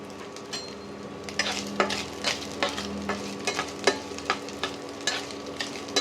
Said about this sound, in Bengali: নারকেলটা একটু ভাজা ভাজা হোক।